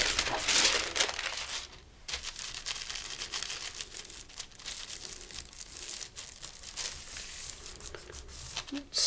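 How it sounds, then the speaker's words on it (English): Tissue paper being crumpled and torn by hand during gel plate monoprinting with acrylics, giving close, irregular crinkling and ripping bursts with brief pauses between them. "And I will take some tissue paper."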